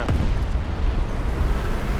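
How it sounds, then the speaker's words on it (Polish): A heavy, rumbling tank explosion in a World of Tanks-style video game booms up close, followed by a sustained low roar and crackle that lingers for a couple of seconds. "Samoloty fruwają, czołgi wybuchają"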